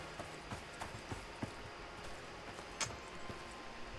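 A herd of horses in the survival video game Icarus clip-clops softly, scattered irregular hoof taps over a steady wash of ambient noise, fairly faint, with no talking.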